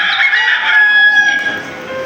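A rooster crows once, loud and close, in a staged Passion play of the crucifixion at the moment of Peter's denial. The long, drawn-out call fills about two seconds with no talk over it.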